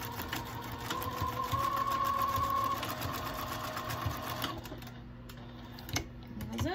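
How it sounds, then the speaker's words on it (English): A sewing machine stitches across fabric layers for a bread basket liner, running forward and backward at a steady close whir with a high tonal hum, then stopping near the end with a few light clicks; no talking. "we're gonna sew across them to secure them together"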